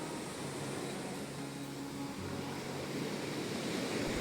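Strong sea surf at Preveli Palm Beach in Crete makes a steady, broadband roar and wash, dense and continuous, with no distinct breaks and no voices.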